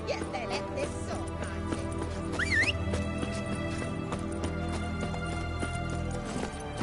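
Geralt's horse Roach from The Witcher trots with a steady clip-clop of hooves, mixed with faint squeaks and a brief whinny-like call, over a constant game ambience.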